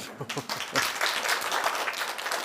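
Audience applause at a university special lecture, a burst of clapping that swells after a brief start and holds steady, moderately loud and filling the room.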